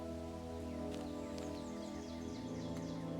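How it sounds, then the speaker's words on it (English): Birdsong fills the background ambience of The Talos Principle video game, with scattered chirps and tweets drifting over a steady layered hum of wind and water, constant and moderately quiet with no talking. "there's like the ambient noise, like the sound, the birds"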